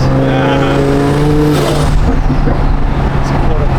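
Audi R8 engine revving at quarter throttle, a loud steady close roar with rising pitch that holds high, voices talking over it.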